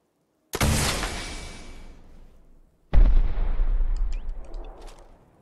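Rocket launcher with tracking rockets in Fallout 4, two loud separate launch blasts, each a sharp bang trailing into a long whooshing rumble, with no talking.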